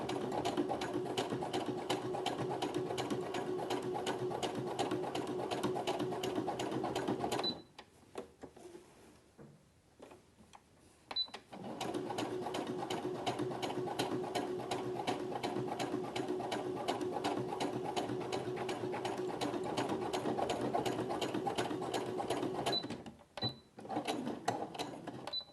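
A Brother sewing machine fitted with a bi-level foot stitches fabric in a fast, steady mechanical rhythm, pausing for several seconds mid-seam while the fabric is pivoted, then running again before a short stop and restart near the end.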